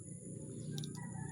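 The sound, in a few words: hen clucking, probably about to lay an egg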